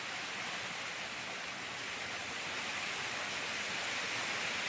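Steady rain hisses continuously, a dense even wash of falling water with no pauses and no voices.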